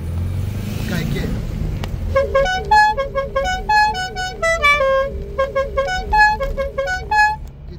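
A car horn sounds in rapid, repeated melodic toots over a steady vehicle rumble, loud and close, at a Salamina rally.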